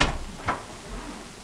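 A door opens with a brief knock-like thud, then a second soft bump, close by and fairly quiet, followed by faint low rumbling.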